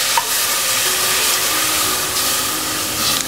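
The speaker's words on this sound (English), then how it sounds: "And I'm going to add 2 cups of milk." Two cups of milk go into a hot pan on medium-high heat, giving a continuous loud hiss and sizzle with stirring underneath.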